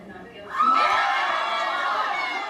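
A crowd of hundreds outside the Orange County Courthouse erupting into loud cheering and shouts at a not guilty verdict, a sudden swell that holds steady, preceded by faint background murmur.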